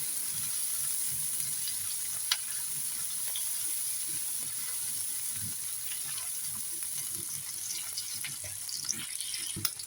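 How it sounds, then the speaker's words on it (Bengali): Shrimp and soaked lentils fry in hot oil for a kochu dish, giving a constant loud sizzle that fills the whole stretch, with a few faint stirring clicks and no voices. "আমি তেলের মধ্যে ভেজে নিব"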